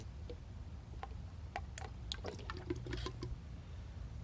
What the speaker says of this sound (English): Pour in 1 quart.